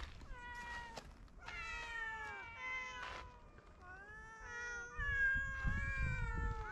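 Stray cats near the rocky summit of Yongbongsan mountain in Hongseong, South Korea, let out a series of clear, drawn-out meows, several calls in succession with outdoor wind rumble rising toward the end.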